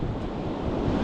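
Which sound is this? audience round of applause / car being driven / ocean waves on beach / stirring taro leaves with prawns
ocean waves on beach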